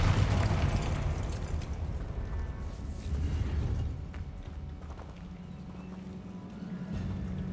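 Fire-blast spell from the Confringo casting in Hogwarts Legacy erupts in a deep booming burst at the start, then rumbles and fades into a lower, rolling tail with faint creaks.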